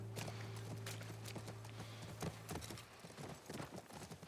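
Horse hooves clip-clopping near a ranch in The Last of Us Part I, irregular hoof strikes on hard ground over a low steady hum, quiet and close.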